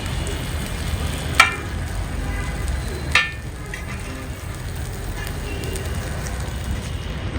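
Coral fish and potato pieces fry in hot oil in a pan, giving a steady, close crackling sizzle throughout with two brief louder spatters near the start.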